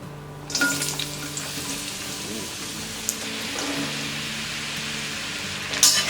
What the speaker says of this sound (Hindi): तेल गरम हो गया, अब हम इसमें डालेंगे ये परवल।